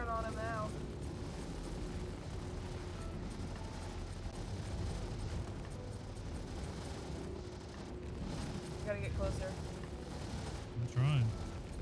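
Spaceship weapons firing during a Claim Jumper mission in Star Citizen, a dense mechanical rattle of rapid shots over a constant engine hum, with brief tonal chirps and a sharp burst near the end.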